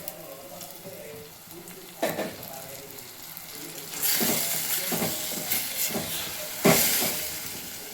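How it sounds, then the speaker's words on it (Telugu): Chopped tomato and ridge gourd are added to hot oil in a frying pan, setting off a sizzling hiss with clinks and stirring scrapes that grows louder partway through. "ఇప్పుడు టమాటా వేసేస్తున్నాం"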